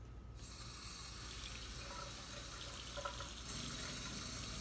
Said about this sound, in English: I'm going to wash my hands because we've just disinfected things.